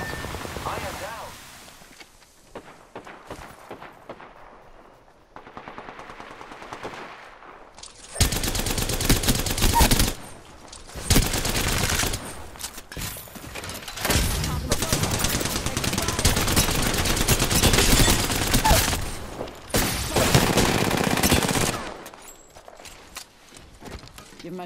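Apex Legends gunfire in a battle-royale firefight: bursts of rapid automatic fire and single shots alternate with quieter gaps, loud and close, with some game voice lines in between.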